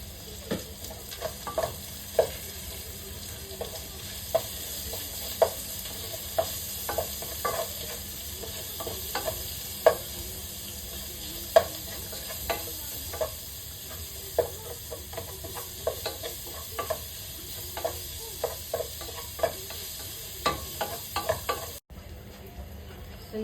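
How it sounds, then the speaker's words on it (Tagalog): Chicken sautés and sizzles in a pan with a steady frying hiss, broken by frequent soft clinks and scrapes of stirring throughout, close and moderately quiet, with no talking. "Sa pagigisa pa lang"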